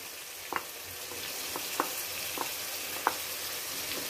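Egg white poured into a hot pan for maghaz (bheja) fry crackles with a steady broadband sizzle, broken by a few sharp pops and spits spaced a second or so apart.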